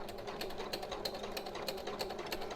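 Sewing machine running back stitches and then stitching forward, a fast, even mechanical chatter that goes on steadily at close range with no voices.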